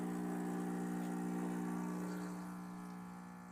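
A Gaggia Classic espresso machine's pump brews a shot with a steady, close, buzzing hum that holds evenly and then eases slightly softer toward the end, with no talking.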